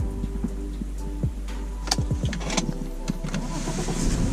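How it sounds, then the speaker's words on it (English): A BMW 5 Series E60 with the key turned to ignition gives a few short mechanical clicks and whirs, close up in a quiet car with a low steady hum underneath. "Turn the key up, ignition."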